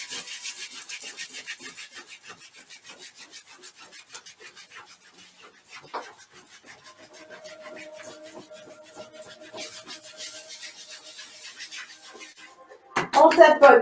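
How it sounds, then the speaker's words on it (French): Hands rub briskly up and down someone's back in a tai chi massage, a quick rhythmic scratchy swishing close by, trailing off before a louder burst at the end, with a voice speaking softly. "On frotte le dos."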